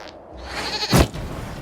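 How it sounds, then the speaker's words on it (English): A goat bleats once, loud and close, in the fantasy video game Dragon Age, rising briefly over a low ambient game backdrop. "we discovered this man attacking the building with a goat"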